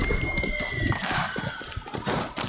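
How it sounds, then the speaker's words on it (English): Horse hooves clip-clop in a loose rhythm amid busy Ghost of Tsushima game sounds and a faint whistling tone, with some voices mixed in. "Why can I hear a horse?"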